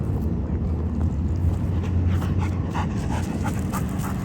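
A dog pants close to the microphone in quick, rhythmic breaths, with a few soft whimpers mixed in over a steady low background rumble.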